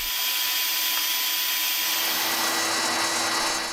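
A CNC router with a 1/8 inch bit cuts material at a shallow step down, giving a continuous, loud, high-pitched whine and steady hiss that holds without a break.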